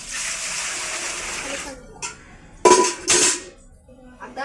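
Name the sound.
water poured for making dal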